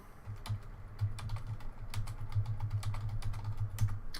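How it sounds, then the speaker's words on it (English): Close computer keyboard typing of a message, rapid irregular key taps with a few louder strokes over a low steady background hum. "just typing a message to that gentleman"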